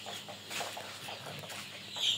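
Sixteen-day-old chickens on a small farm cluck and chirp faintly and continuously, with soft rustling and no one speaking.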